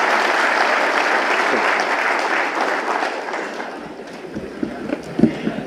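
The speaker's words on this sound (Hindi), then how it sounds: "एक बार तालियों के साथ उसी एनर्जी को वापस लेके आएंगे जो सुबह थी हमारे लिए।" An audience at a day-long training session gives sustained applause that is dense at first, then thins out and fades into a few scattered claps.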